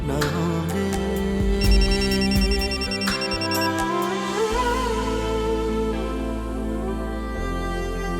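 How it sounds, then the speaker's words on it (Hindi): Mobile phone ringtone playing loudly nearby as a bright melodic electronic tune with repeating tones, ringing continuously with no voices over it. "एक्सक्यूज मी, हाशिम का फोन"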